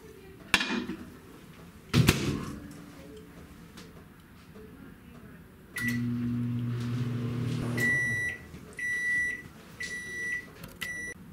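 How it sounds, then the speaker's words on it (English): A microwave oven hums steadily for a couple of seconds after a few knocks and clicks, then a series of short electronic beeps sounds repeatedly. "And here we go into the microwave."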